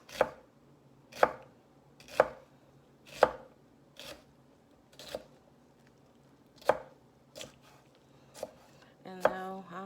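A knife slices a vegetable into thin pieces on a cutting board, about ten distinct, evenly spaced chops that are crisp and close, ending with a brief rustle.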